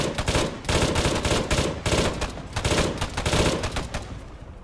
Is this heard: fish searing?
no